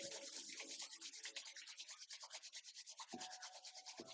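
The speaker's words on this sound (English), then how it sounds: "Rub the palms against each other. Generate urja, make them warm." Palms rubbed briskly together during a yoga session, a steady close swishing friction in quick back-and-forth strokes that continues alone without any talk.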